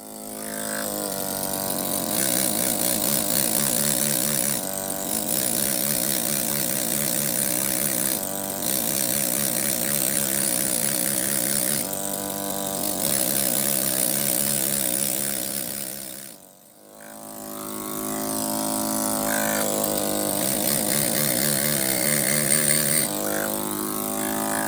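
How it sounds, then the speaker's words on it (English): A motorized sharpener hums steadily with a droning, whining tone while stone carving tools are sharpened on it. The sound is nearby and continuous, dipping briefly once partway through before resuming. "I'm going to sharpen some tools."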